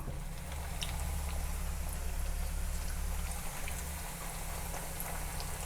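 Methi khari made from wheat-flour dough frying in hot oil over a medium flame, giving off a continuous, even bubbling hiss at moderate level with no voices.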